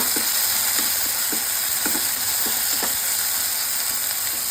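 Fish with garlic and ginger paste sizzles in a pan, a loud continuous frying hiss with a spatula scraping and stirring in regular soft strokes, close up and without talk.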